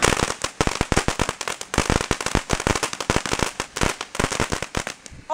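A grand finale of a small backyard fireworks show, with a rapid, dense barrage of loud firecracker bangs and crackles popping nonstop, close by and without a break.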